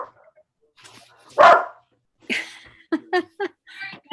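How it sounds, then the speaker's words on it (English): A dog barks several times in short, loud bursts, with one big bark followed by a quick series of sharper yips, heard alone without talk. "That was my really bad dog."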